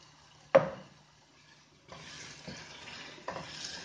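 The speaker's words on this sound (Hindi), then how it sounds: "अब इस मसाले में आलू को बहुत अच्छी तरह से भूनना है" Potatoes fry in a spice masala in a pan, a sharp clink of a utensil followed by quiet sizzling and soft scraping stirs, faint and close.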